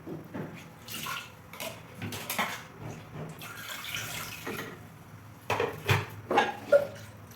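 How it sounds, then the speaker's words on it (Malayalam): Hot water poured into a pan of coconut-milk dal with lentils, a soft splashing pour with bubbling and a few louder splashes near the end, fairly quiet and close. "ഒരു അരക്കപ്പം കൂടെ ചൂടുവെള്ളം ചേർക്കാം."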